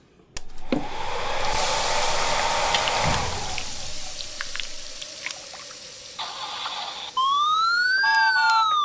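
After a rushing, hissing noise, a video game ambulance siren starts up loudly near the end, wailing in a rising and falling sweep.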